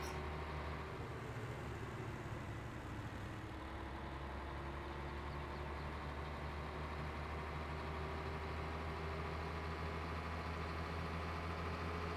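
A truck driven in the Farming Simulator 17 video game on the Boszkow map hums with a steady, low engine drone that holds faint and unbroken throughout, with no voices.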